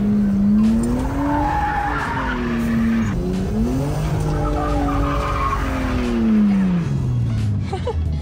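A right-hand-drive car's engine revs hard while tires squeal and skid continuously under the handbrake, the pitch sliding up and down as the car drifts, loud and close from inside the vehicle.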